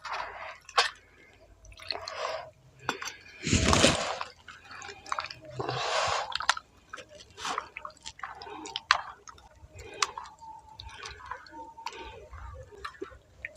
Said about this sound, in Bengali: এবার আমি এটা ঠান্ডা জল দিয়ে একটা ব্যাটার তৈরি করে নেব